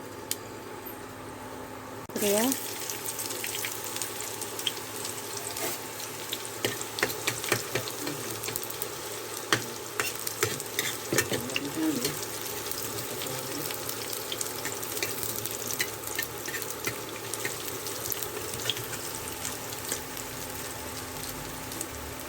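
Chilies and spices hit hot oil in a wok with a sudden loud sizzle after a quiet moment, then keep up a dense, steady crackle and spatter, close and continuous.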